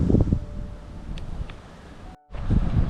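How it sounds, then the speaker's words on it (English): Gusty wind buffets a handheld microphone on a walk toward a hiking trail in Blanco State Park on a windy April day, making a loud rumbling roar that briefly drops out before returning. "Pardon the wind noise."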